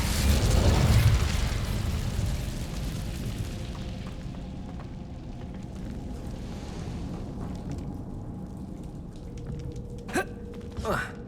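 An Incendio fire spell is cast in the Hogwarts Legacy video game, opening with a loud, broad burst of flame in the first two seconds. The roar then fades into a quieter rumbling tail, and a couple of sharp chiming accents sound near the end.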